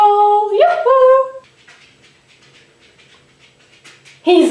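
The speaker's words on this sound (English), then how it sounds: "the puppy is actually not allowed in here" A puppy whimpers in a high, wavering cry up close, then pants softly and quickly for a few seconds before a voice cuts in at the end.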